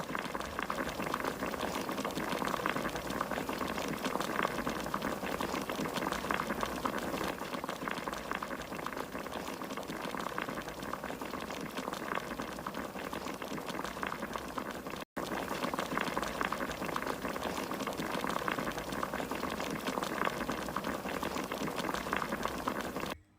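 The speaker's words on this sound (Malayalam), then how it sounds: "രണ്ട് കപ്പ് വെള്ളം ഒരു പാനിൽ ഒഴിച്ചു തിളപ്പിക്കുക" Water simmering in a pan with cloves, cardamom, tulsi leaves, pepper and ginger for masala chai, a steady close bubbling and rolling boil that continues unbroken, with no voices.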